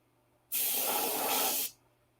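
A spray gun that had been sputtering now sprays, releasing one steady, loud hiss for just over a second that starts and stops sharply over a faint background hum.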